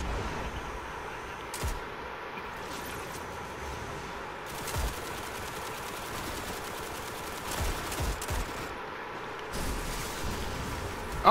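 Hand cannon gunfire in the video game Destiny comes as dense, distant-sounding volleys of shots and bursts, continuous and rumbling over a busy battle backdrop.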